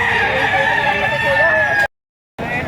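A rooster at a market stall crows in one long, loud drawn-out call that runs close for nearly two seconds, then cuts to silence before other poultry noise resumes.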